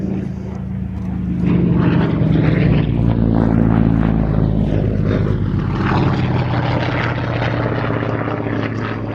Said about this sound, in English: which is, strictly speaking, a Yak C11, C for Czechoslovakia, built as it was by the Let factory